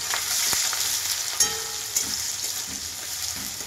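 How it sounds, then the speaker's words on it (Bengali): Chopped onions drop into hot oil and sizzle steadily up close, with a sharp crackle near the start and a few spatula clicks over the continuous frying hiss. "তেল গরম হয়ে গেছে, এবার আমি দেবো 4টা পেঁয়াজ"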